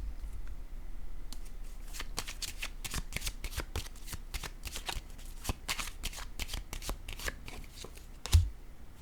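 Tarot cards are shuffled close by in a long run of soft, rapid riffling flicks that speed up and slow down, ending in a small thump. The sound is fairly quiet and there is no talking.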